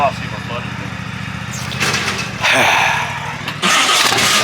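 A hot rod's engine, freshly fitted with new spark plugs, cranks and catches, with a steady low engine rumble building into louder bursts of revving partway through, while people talk nearby.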